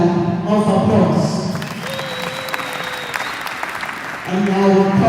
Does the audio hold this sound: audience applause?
yes